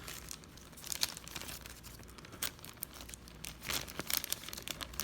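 Cellophane and laser-cut kit sheets for a model warehouse handled up close, giving quiet, irregular crinkling and crackling bursts with soft rustles between them, no speech.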